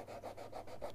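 Sandpaper works over a painted knife blade in a steady back-and-forth rhythm, about five soft, close strokes in a second with no talk.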